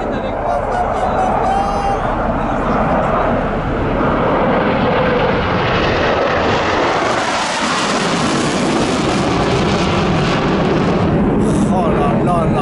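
A loud military jet roar swells and sweeps past low overhead at a car show, dense rumbling engine noise filling the whole stretch, with excited voices faintly underneath.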